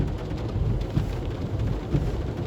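Steady outdoor rain makes a dense, continuous wash of noise around a city plaza, fairly loud and even throughout, with no voices.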